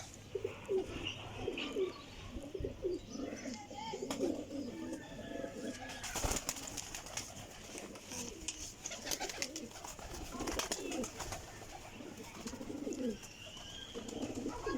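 Continuous soft cooing from a group of pigeons close by, overlapping throaty calls with faint chirps and occasional rustling.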